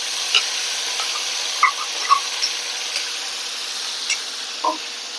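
Cumin seeds spluttering in hot oil for a Marathi vegetable dish of cowpea vine shoots, a steady fine sizzle with a few scattered sharp pops and crackles, close by and with no voices.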